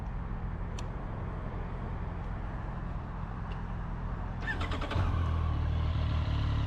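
A 2025 Triumph Street Triple 765 R motorcycle engine idles steadily with a low rumble, then is blipped into a louder, rising rev near the end, heard close with road noise behind.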